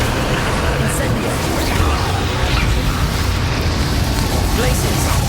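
An Incendio fire spell is cast in Hogwarts Legacy, a dense roaring burst of flame with a whooshing, crackling wash layered over busy combat noise, with a voice speaking over it.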